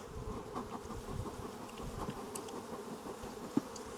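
Honey bees buzz in a dense, steady swarm after being smoked and dumped into a hive aggressive from earlier trouble, the drone close and continuous with a brief sharp knock near the end.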